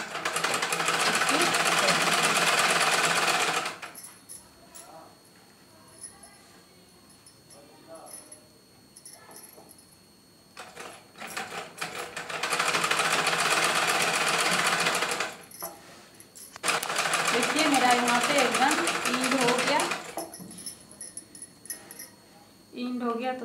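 A sewing machine stitches cloth in loud, fast rattling bursts, running in three long stretches separated by quieter pauses with faint handling sounds, while a person talks throughout.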